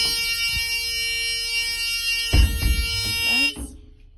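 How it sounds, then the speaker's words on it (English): A school bus emergency exit door alarm gives a continuous shrill electronic buzz that holds steady, with a thud and clunk of the door being opened partway through, before the buzz cuts off near the end. "I'm gonna open the door and make sure the alarm sounds."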